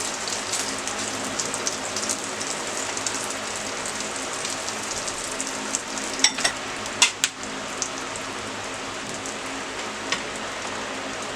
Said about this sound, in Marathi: स्लो गॅसवर 2 मिनिटं झालेली आहे। सावकाश परतून घेऊया।